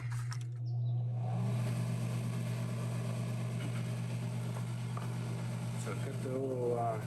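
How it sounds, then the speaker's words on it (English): A workshop electric fan runs steadily throughout with a constant low hum, a continuous drone under intermittent speech, while faint tonal whistles drift above it. "I have to have a fan going for this one"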